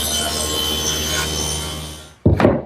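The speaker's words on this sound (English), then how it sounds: "I've set the table saw at 10 degrees, and I beveled one edge of this larger piece." A table saw set at 10 degrees bevels the edge of a wooden piece, a steady whining cut that runs for about two seconds before a short, louder burst of rough sawing noise.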